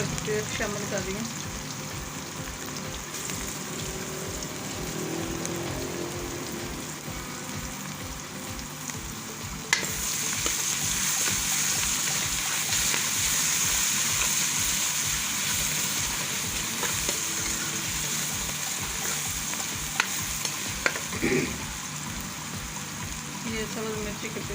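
Garlic ginger paste frying in hot oil with onions in a home kitchen pan, a steady close sizzle running throughout with a brief louder burst of crackling partway through.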